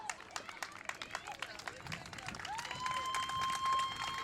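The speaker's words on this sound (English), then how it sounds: "She's going to get a nice hand from the crowd." Crowd at a high school softball game giving an injured player a hand, with light scattered clapping and murmuring spectators building gradually, fairly distant, mixed with background chatter.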